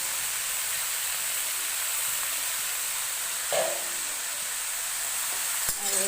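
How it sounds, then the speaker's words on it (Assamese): Taro pieces fry in hot oil with ginger and garlic, giving a loud, even sizzling hiss throughout, with a brief clatter midway and a sharp tap near the end. "এইবাৰ মই কচুখিনি ঢালি দিম।"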